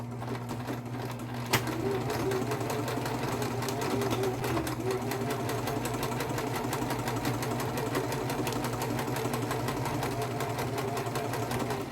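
A sewing machine stitches white thread on a pillowcase with a steady, continuous mechanical hum and rapid needle chatter. The sound is close and even throughout, with no talking.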